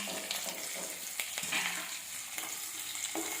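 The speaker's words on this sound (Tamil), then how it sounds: "வெங்காயம் நல்லா வதங்கட்டும்." Sliced onion and green chilies sizzle steadily in hot oil in a pan, a continuous close frying hiss with faint stirring scrapes.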